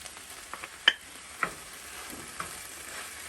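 Chicken fajita mixture with canned Rotel tomatoes being stirred in a pan, a faint sizzle underneath with a few sharp scrapes and knocks of the spoon against the pan.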